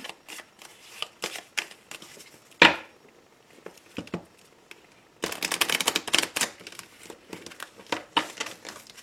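Cards are shuffled for a Petit Lenormand reading, giving close crisp riffling and flicking bursts, a rough pause, then a longer run of rapid card rustling, with no one speaking.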